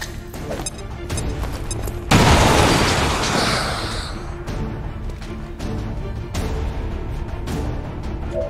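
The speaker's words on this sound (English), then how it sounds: "Throwing grenade!" A grenade explodes in the video game XCOM 2: a sudden loud burst of noise that slowly decays, over continuous game background sound.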